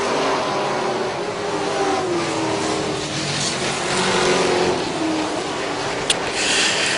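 Race cars roar around the oval at Charlotte in a continuous, loud engine drone with steady whine as the field comes off turn four, no voices over it.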